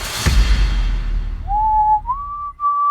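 Someone whistles a Christmas song, a clear close melody of sustained notes that starts after a short thump and some background noise.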